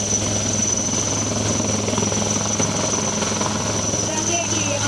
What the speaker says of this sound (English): Let's see the special forces steadily moving towards the advanced light helicopter.